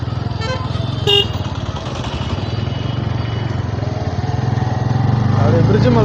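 A Bajaj N160 motorcycle with dual-channel ABS rides along a road, its engine a steady close droning rumble that swells slightly toward the end, with a brief horn-like toot early on and a voice talking over it.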